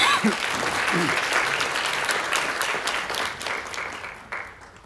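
Forum audience in Jeju applauding a Swedish embassy counsellor, dense sustained clapping fairly close, with a brief voice at the start and the ovation slowly thinning toward the end.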